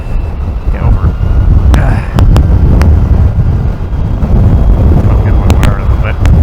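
Wind rushes steadily and loudly over a rider on an Energica electric motorcycle in the Scottish Highlands near Knockan Crag, with a few sharp clicks and flapping sounds and no speech.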